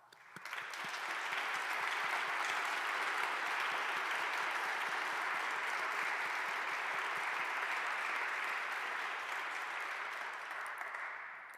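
Steady applause at an honors convocation ceremony, a dense wash of many hands clapping that starts quickly, holds for about ten seconds and tapers slightly at the end, fairly distant and with no voices over it.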